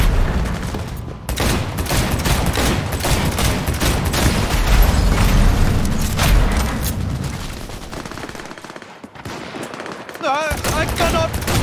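Dense gunfire rings out amid a chaotic battle, with rapid overlapping shots and booming bursts sustained throughout, loud and close, and shouting voices mixed into the din.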